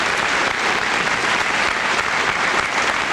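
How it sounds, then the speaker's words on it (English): Loud, dense applause at a high school senior assembly for Presidential Academic Fitness Award winners, a continuous wash of many hands clapping at once with no voices. "Let's have a round of applause for these Presidential Academic Fitness Award winners."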